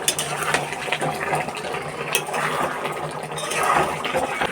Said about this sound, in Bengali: এই যে টকবক টকবক করে ফুটে উঠেছে তরকারি